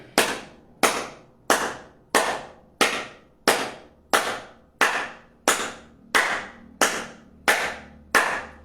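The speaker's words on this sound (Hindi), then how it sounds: "तालियां बजाएं, रोग को भगाएं" A yoga group claps in unison, about a dozen sharp, evenly spaced claps in a slow steady rhythm, loud and close with no talking.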